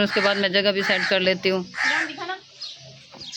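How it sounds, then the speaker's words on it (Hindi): A crow caws around outdoor household cooking, with short harsh calls at the start and mid-clip, under someone talking. "ये कौवा ना गोश्त के पीछे आया हुआ है"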